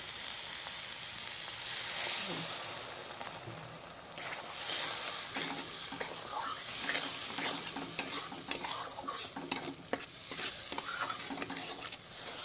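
Spice paste frying in oil for a wallago fish curry, with a steady close sizzle broken by occasional stirring scrapes and spatters that grow busier toward the end, no voices.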